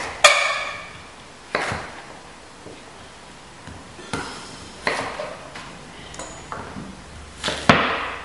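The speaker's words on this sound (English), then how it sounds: "Just going to chop them." Sharp knife chops slice through sticky mashed potato patties, cutting each into eight on a board, giving several crisp, separate cuts at irregular intervals, close and fairly loud, with no talking.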